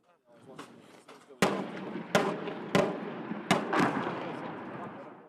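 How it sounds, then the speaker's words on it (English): Artillery and mortar barrages in a city: a series of heavy booming blasts, about five sharp impacts a second or so apart, each trailing into rumbling echoes over a continuous din. "In prolonged artillery and mortar barrages."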